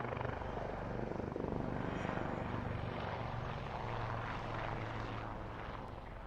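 Wildcat and Lynx helicopters fly a formation display at the RAF Waddington airshow, a steady loud rotor and engine roar with a throbbing low beat that holds for the whole stretch and eases slightly at the end.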